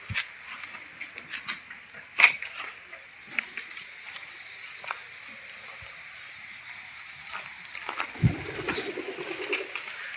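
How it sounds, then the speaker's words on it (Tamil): A pigeon coos and takes off among scattered soft clicks and bumps, with water trickling faintly throughout and a brief flurry of fluttering wings near the end, captured at moderate distance. "பார்த்தீங்கன்னா அந்த புறா அங்கேருந்து போகுது."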